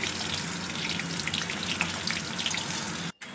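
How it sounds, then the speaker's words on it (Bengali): Dhoka, lentil cakes, deep-fry in hot oil, giving a steady crackling sizzle close by for about three seconds before it cuts off abruptly near the end. "আমি ভালো করে ছাঁকা তেলে এগুলোকে ভেজে নেব।"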